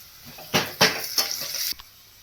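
Onion, spices and curry leaves hit hot oil for a fish curry, bursting into a loud close crackling sizzle in several surges that then cuts off sharply.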